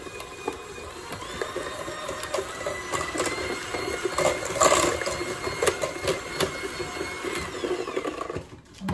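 Eggs are whisked one at a time into buttermilk cornbread batter in a bowl, producing a busy, close stream of rhythmic tapping and wet scraping that grows louder midway before stopping.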